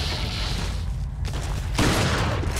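Gunfire in Resident Evil 4 Remake during a mines fight, a dense steady roar of shots and booms, loud and continuous, growing heavier near the end.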